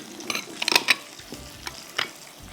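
Stirring and folding a macaroni salad of elbow pasta with celery, green onion and carrot, giving soft wet scrapes and a few sharper utensil clinks against the bowl, close and intermittent.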